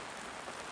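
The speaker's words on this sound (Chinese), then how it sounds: "好大的雨啊！" Heavy rain pours down in a dense, even hiss, a brief stretch of faint, steady downpour with no voices.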